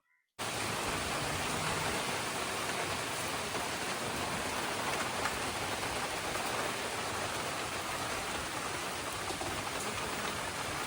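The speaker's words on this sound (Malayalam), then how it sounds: "ഭയങ്കര കാറ്റും മഴയും." Heavy rain driven by strong wind roars in a constant, dense wash after a brief silent start, steady and unbroken with no talking.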